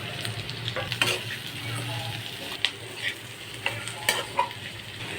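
Grated coconut is stirred and fried with onion in a pan for sundakkai thuvaiyal, a steady close sizzle broken by scraping spoon strokes and a few sharper clacks.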